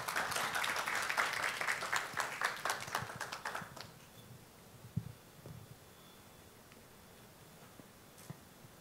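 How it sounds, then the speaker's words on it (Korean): Audience applause at an ESG and impact investing conference session as the first presenter, a law firm partner, is welcomed; dense clapping fades after about four seconds into quiet room tone. "박수로 환영 부탁드립니다."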